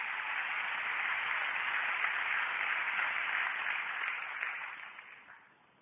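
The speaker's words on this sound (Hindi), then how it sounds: "उनके लिए एक जोरदार ताली मैं चाहूंगा" A seminar audience applauds, a steady, muffled wash of clapping that holds evenly for several seconds before tapering off near the end.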